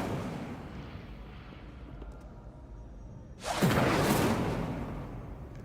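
An Incendio fire spell is cast in Hogwarts Legacy, a sudden loud whooshing burst of flame erupting after a quiet stretch and sustaining as a broad roar before gradually easing.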